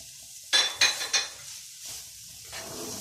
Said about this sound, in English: So we are going to stir fry for about 5 to 7 minutes